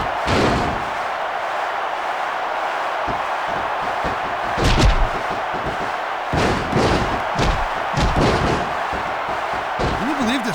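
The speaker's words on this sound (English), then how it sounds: "He's going for his finisher! The Dupree bomb." Heavy body slams and thuds land in WWE SmackDown vs. RAW 2006 during a 30-man Royal Rumble, with one big impact near the middle and further thumps under a crowd roar and game commentary.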